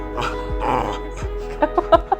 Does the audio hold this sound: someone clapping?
no